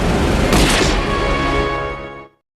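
A single loud gunshot in a film cracks and booms, its echo ringing out and fading over about two seconds before cutting to silence.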